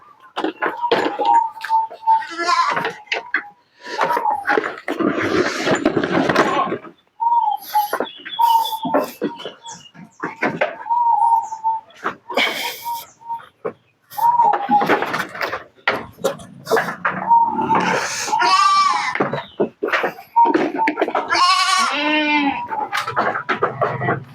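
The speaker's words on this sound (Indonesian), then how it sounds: "Kambingnya emang luar biasa teman-teman." Goats bleating repeatedly at close range, loud wavering calls in bursts with short pauses, mixed with scattered bumps and knocks and some voices in the background.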